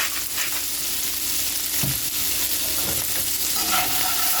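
Steak sizzling in a pan with butter and parsley, a loud, dense crackling sizzle with scraping strokes against the pan bottom, close up and steady, with no talking.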